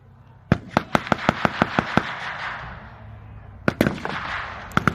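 WW2 re-enactment rifle fire from airborne forces outdoors, a rapid string of sharp shots followed by a pause and further scattered shots, echoing across open ground.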